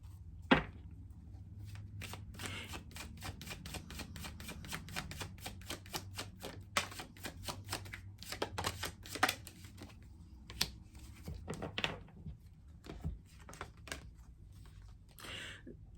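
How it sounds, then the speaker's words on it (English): Tarot cards are shuffled and laid out on a surface, producing a rapid patter of light snaps and soft slaps, with sharper isolated card flicks standing out from the quiet background. "So let's lay some cards on top of this."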